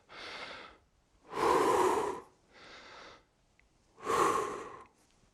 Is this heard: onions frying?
no